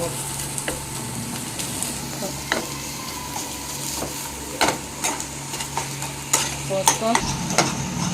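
A spatula stirs and scrapes food around a pan over low heat, giving irregular knocks and scrapes above a soft, continuous sizzle.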